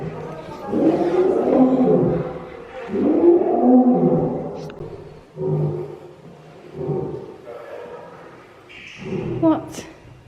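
Deep, throaty lion roars repeat in heavy bursts, loud and close, with a few shorter grunting calls trailing off toward the end.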